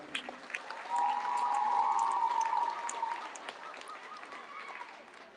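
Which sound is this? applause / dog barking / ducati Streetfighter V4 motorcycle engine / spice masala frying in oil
applause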